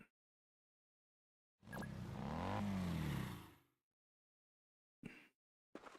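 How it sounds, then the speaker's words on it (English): A car engine revs up loudly for about two seconds, rising in pitch, then cuts off; two short sharp bursts follow near the end, in the Roblox game Arcane Odyssey. "That's what that sound was. That's the car."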